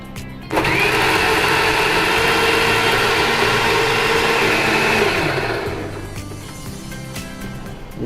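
Kitchen mixer grinder grinding fried spices, a loud steady whirring motor running for about five seconds before winding down into a softer hum.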